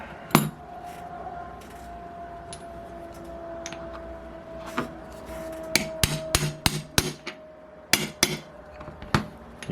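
A Thunder Tiger F54S model engine crankshaft bearing is tapped into place, giving sharp metallic taps, first sparse, then a quicker cluster of knocks over a faint steady whine.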